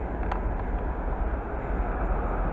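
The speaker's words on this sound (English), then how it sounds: "Train past West Shorts Place 165 from Ellesmere Vale Parkway to Marlbone." A Class 165 diesel train running from Aylesbury Vale Parkway to Marylebone passes a station with a steady, loud low rumble and rolling noise that stays constant throughout.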